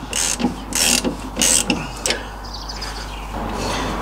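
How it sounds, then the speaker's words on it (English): Nylock nuts being tightened onto MGB suspension bolts with a ratchet wrench, several short bursts of close metallic clicking and ratcheting separated by brief pauses, with a low hum underneath. "I'm going to keep pulling them down until I can actually see the thread sort of come through the end of the nylock nut there."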